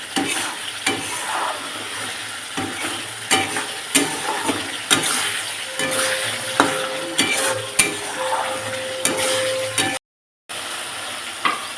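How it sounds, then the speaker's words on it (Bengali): Mutton masala is stirred and fried in a pan, with a spoon scraping in regular strokes over a constant soft sizzle, close and alone, with a brief dropout near the end. "মশলাটা যত ভালো করে কষানো হবে মাটন তত ভালো হবে"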